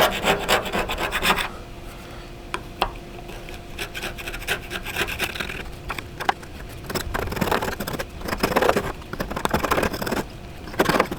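A hand scraper rasps and rubs reflective decal tape off the painted metal side of a school bus in a close, continuous stream of scraping strokes with uneven rhythm and bursts of louder grinding.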